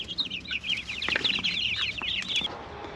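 Meat chickens in a pastured poultry coop chirp and cluck in a steady, busy chatter, close by, with a few soft thumps and rustles underneath.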